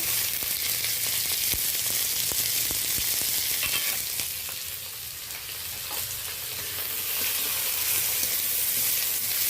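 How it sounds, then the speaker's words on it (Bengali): Onion and slit green chilies sizzle loudly and steadily in hot oil with panch phoron, with a brief stir midway and light clicks of a spatula scattered through the crackle. "ফোড়নের সাথে 5 ফোড়ন দিয়েছি, তার সাথে চেরা কাঁচা লঙ্কা, পেঁয়াজটা ভালো করে একটু নাড়াচাড়া করে নিচ্ছি 2-4 সেকেন্ড"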